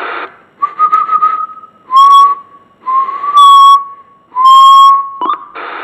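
A President Jackson II Classic CB radio gives its bleep tones, a run of steady whistle-like beeps rising and falling in short bursts, loud and close with no talking.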